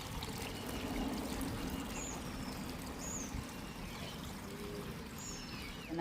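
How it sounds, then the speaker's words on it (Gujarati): Water pours steadily from a newly serviced garden fountain on a village farm, a continuous splashing trickle at moderate level with faint outdoor sounds behind it. "હવે કમ્પ્લીટ આવવા માંડ્યું છે પાણી બધું."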